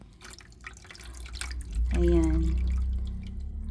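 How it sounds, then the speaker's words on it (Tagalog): Water poured from a dipper into a hydroponics container, a brief splashing trickle and gurgle rising near the middle, with a short spoken word over faint room noise. "I decided to add water."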